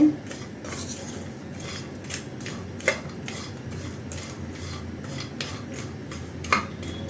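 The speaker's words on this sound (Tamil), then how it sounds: "இதையும் நல்லா கலகலம் நல்லா வறுத்து எடுத்துடலாம்" Jackfruit seeds dry roast in a kadai as a spoon stirs them, repeated scraping and rattling clinks against the metal at an uneven rhythm, close and moderately loud.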